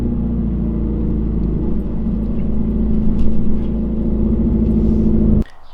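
A 2017 Subaru WRX STI on flex fuel with a very loud aftermarket exhaust drives slowly at low RPM up a driveway. Its deep, steady exhaust drone stays close and loud, then cuts off abruptly near the end.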